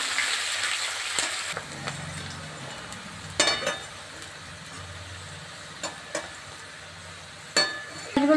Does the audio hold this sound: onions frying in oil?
yes